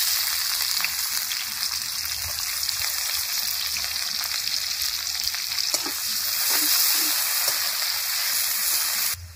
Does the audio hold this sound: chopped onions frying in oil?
yes